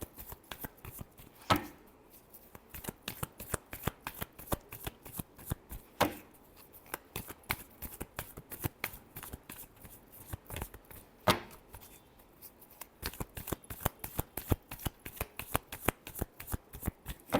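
A deck of tarot cards is shuffled steadily by hand, rapid riffling flutters in repeated bursts with a few sharper slaps, close and fairly quiet with no talk.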